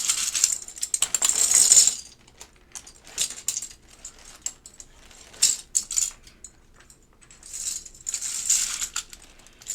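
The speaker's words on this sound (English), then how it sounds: "So let's bag up our keycaps." Plastic keyboard keycaps clattering as they are dropped into a bag: bright, close rattling bursts of small hard pieces, with a dense pour at the start and several shorter tumbling spills after it.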